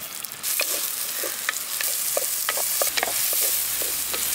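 Chopped onions sizzle steadily in hot oil, with scattered sharp crackles and occasional stirring scrapes, close and fairly loud.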